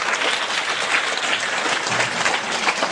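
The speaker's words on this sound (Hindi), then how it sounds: "ताली बजाओ गुड़िया के लिए।" An audience claps in continuous, even applause at a spiritual discourse gathering, a dense wash of hand claps that holds steady for the whole stretch without any voices on top.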